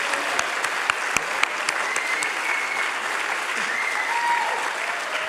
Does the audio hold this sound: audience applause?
yes